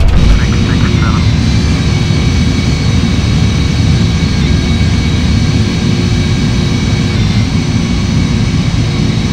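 PMDG Boeing 747-400 jet engines roaring at takeoff power in the FSX flight simulator, a loud steady broadband rumble with a constant whine that holds without pause throughout, heard alone with no talk.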